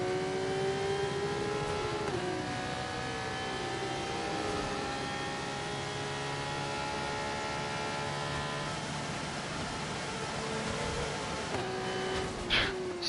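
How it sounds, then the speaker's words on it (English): F2 race car engine in a racing video game, a high sustained whine with rising and falling harmonic sweeps as revs climb and hold near the limiter, steady and continuous. "Smacking the rev limiter just to get my fuel load down"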